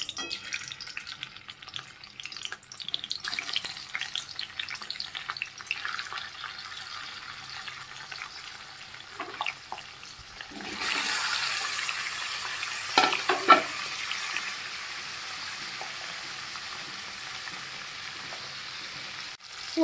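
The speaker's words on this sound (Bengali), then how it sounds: "পনিরগুলো ভাজা ভাজা হচ্ছে" Paneer pieces sizzle in hot oil and ghee in a wok, a steady crackling fry heard up close, with occasional stirring clatter and a sharper burst of sizzling midway as more pieces go in.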